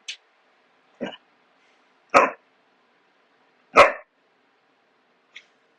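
A dog barks in a quiet room, a few sharp, separate barks spaced a second or more apart, the middle two loudest and closest, with faint short yips at the start and end and no talk.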